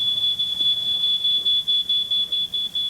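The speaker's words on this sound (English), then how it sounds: "the smoke detector goes off" A smoke alarm shrieks with a piercing high-pitched tone during a house fire, pulsing in rapid regular beeps throughout, fairly loud and with no talking.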